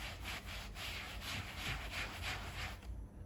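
A sponge scrubs a cleaning solution of water and rubbing alcohol into a rug, quick rhythmic back-and-forth rubbing strokes, close and fairly quiet, about a dozen passes before stopping.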